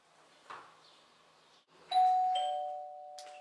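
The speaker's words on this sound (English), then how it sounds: "the dog goes to the crate when the doorbell rings" A household doorbell gives a soft knock-like tone, then a clear ding-dong chime that rings out and decays slowly, close and alone in a quiet room.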